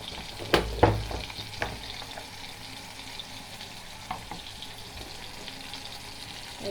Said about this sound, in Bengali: প্রথমে পেঁয়াজ আর টমেটোগুলো দিয়ে দিলাম।